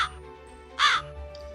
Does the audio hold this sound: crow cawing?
yes